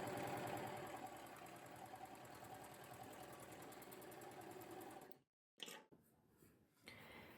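An overlocker sews a rolled hem on a straight piece of stretchy fabric, giving a steady, loud mechanical whir with fast regular stitching pulses. It stops abruptly, then a few short bursts of motor noise follow.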